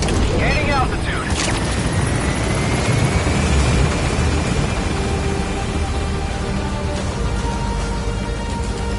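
A helicopter lifts off in Metal Gear Solid V, its loud rotor and engine roar filling the scene as it climbs, with a rising whine and a radio voice speaking over it.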